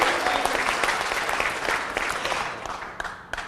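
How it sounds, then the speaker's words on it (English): Sustained applause from an audience gathered at Los Angeles City Hall, a dense, even roar of clapping hands that fades toward the end, leaving a few last isolated claps. "let's give her a round of applause"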